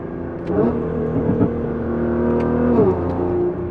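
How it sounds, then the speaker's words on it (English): A Nissan GT-R R35 engine with a Valvetronic Designs titanium exhaust revs hard and steady, its pitch rising and falling through throttle blips, loud and close with a deep, raspy exhaust note. "Just sit back, relax, and enjoy the best sounding GTR out there."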